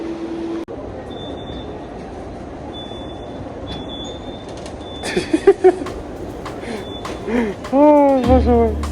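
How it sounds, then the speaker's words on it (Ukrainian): A tram in Lisbon, Portugal rumbles steadily along its rails, with a few clanks and a rising metallic wheel squeal near the end; faint voices murmur in the background. "Ось такий прекрасний трамвайчик дає вам більше атмосфери португальської"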